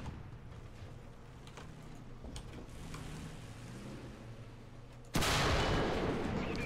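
Leopard tank firing APFSDS rounds in a video game, heard as one loud sharp cannon blast near the end that stays as a sustained roar, after a low engine rumble with scattered distant shots.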